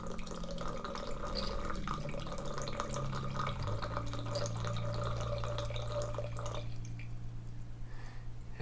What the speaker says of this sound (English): if you could hopefully hear that, that was the bubble glooping, and that created a lot of oxygen in there